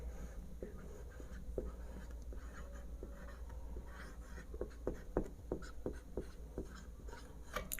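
Pen strokes scratch across paper during a Hindi-language English grammar lesson, faint and close, in irregular short bursts that grow denser toward the end, with no talk.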